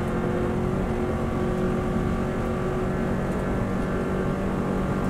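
Subaru WRX STI under hard acceleration on the Isle of Man TT road course in 2014, a loud, steady engine drone heard from inside the car, continuous and unbroken, with no talking.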